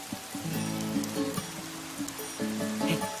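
Steady rain falls in a broad wash of patter, with a tonal musical bed running underneath throughout.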